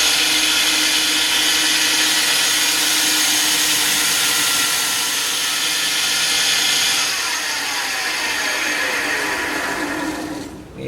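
A power sander grinds steadily against a thin wooden inlay cross, a loud, continuous whir that changes pitch partway through and then winds down at the end.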